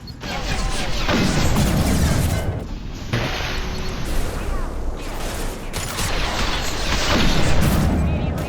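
Dense, continuous gunfire from a Krogan in the video game Mass Effect 2, with loud crashing bursts and impacts over mechanical game effects and battle noise.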